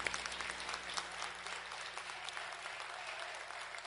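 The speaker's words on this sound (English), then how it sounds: "a final round of applause for all of our honorees" An audience at a celebration event claps steadily for its honorees, a sustained round of applause with scattered individual claps standing out over a low steady hum.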